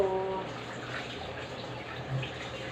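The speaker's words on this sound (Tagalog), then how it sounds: "Tulo." Water runs from a tap in a home kitchen during cooking for a Christmas party, a faint, quiet wash of water with a brief low tonal hum near the start.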